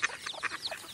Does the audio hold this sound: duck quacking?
yes